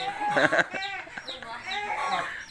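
Chickens cluck and squawk close by in a busy, overlapping chorus, with a few sharper calls standing out.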